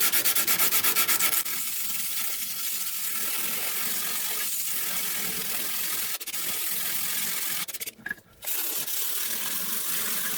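Whittling knife blade, a fairly meaty steel one, being sharpened on grit: steady abrasive rubbing and scraping strokes, loud and continuous with a brief pause near the end, no talk.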